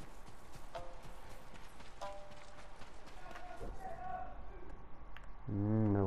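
Horse hooves clip-clop in Ghost of Tsushima, a steady series of light rhythmic strikes over ambient game noise, with a voice rising briefly at the end.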